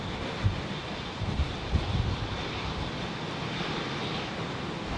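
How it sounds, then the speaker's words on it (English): Air India Boeing 787 Dreamliner at London Heathrow during Storm Franklin, a steady engine roar blended with heavy wind buffeting the microphone, a few low thumps early on, continuous and moderately loud. "Now this aircraft, along with the other one that just went out, the Boeing 787 Dreamliner, has what's known as a head-up display."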